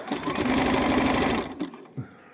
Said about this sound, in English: I'm also top stitching it here just to make it lay flat since it's going to be on his leg.